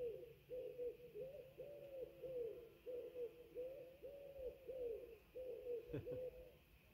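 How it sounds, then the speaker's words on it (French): A pigeon or turtledove coos steadily in a meadow on a summer afternoon, soft hollow calls repeating in an even rhythm at moderate distance over faint outdoor ambience, with one brief noise near the end. "sais pas si c'est un pigeon ou une tourterelle"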